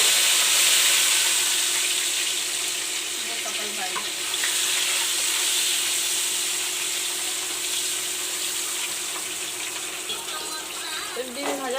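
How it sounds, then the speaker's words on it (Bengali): A boiled, peeled egg fries in hot oil with salt and turmeric in a kadai wok. The sizzle is steady and crackling, with soft scraping and stirring throughout, and sounds close. "এবার ডিমটা ভেজে নেব।"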